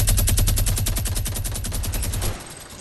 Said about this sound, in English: Keep on shooting now, I got plenty of ammo.